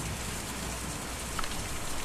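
Steady rain in the video game Kentucky Route Zero, a dense, even hiss of falling drops with no talk, faint and continuous throughout.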